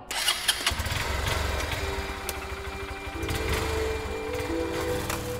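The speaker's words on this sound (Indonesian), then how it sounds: "Gue pun siap-siap dan langsung nyalain motor." A motorcycle engine cranks and catches close by, then settles into a steady, throbbing idle with no voices over it.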